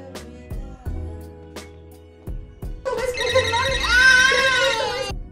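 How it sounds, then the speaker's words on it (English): In a film scene, a telephone rings in repeated bursts while a baby cries loudly and insistently, rising over the rings in the second half. "a lady trying to calm down a baby from crying, and a phone obnoxiously ringing"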